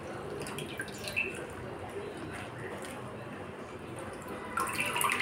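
Running water splashing and dripping as leafy greens, spinach and dill, are rinsed by hand in a kitchen, a soft continuous trickle with a brief louder gush near the end.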